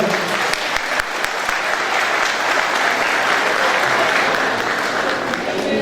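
Audience applauding an association's board at a dinner gathering, a long, full, steady round of clapping from a sizable crowd, loud and continuous, with a few sharper individual claps near the start.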